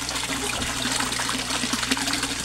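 An aerator pump in a koi fish tank churns the water into a loud, steady wash of bubbling and gurgling, close by and unbroken.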